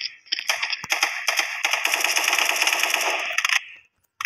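Rapid bursts of AK sniper rifle fire in the online shooter Special Force 2, a loud, dense rattling volley lasting a few seconds with brief gaps, then stopping abruptly.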